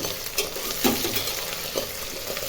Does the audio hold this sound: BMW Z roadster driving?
no